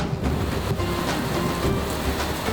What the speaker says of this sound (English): It's super rainy outside. I mean, the rain is like crazy.